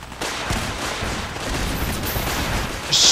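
Rockets and explosions in the video game Fallout 4 erupt in a rapid, continuous barrage of loud blasts and booms, dense and close, with no talk over them.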